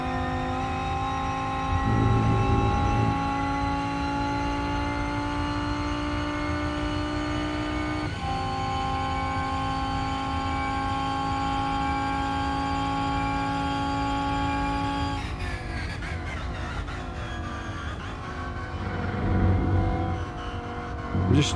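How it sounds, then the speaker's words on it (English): Race car engine in the RENNSPORT racing simulator game, a steady loud drone with a high gearbox whine, holding pitch with a shift near the middle and rising revs near the end. "Oh, this car sounds good. I love that gearbox whine."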